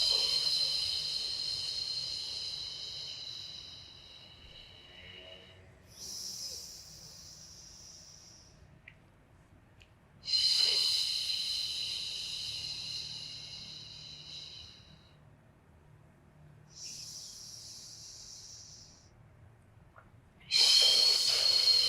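Slow, deliberate breaths during a beginner pre-Pilates workout, long airy exhales alternating with quieter inhales in a steady cycle of about four breaths, close and clear with no talking.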